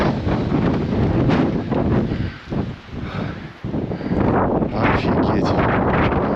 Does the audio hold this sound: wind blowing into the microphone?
yes